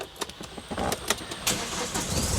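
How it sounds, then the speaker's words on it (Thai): A Hyundai Grand Starex VIP diesel van is started with a key: soft clicks and a brief whirring crank, then the engine catches with a rising rumble, heard from inside the cabin, fairly quiet, no talk. "มาพร้อมกุญแจแบบนี้นะคะ เพียงแค่เสียบนะคะ แล้วบิดสตาร์ท"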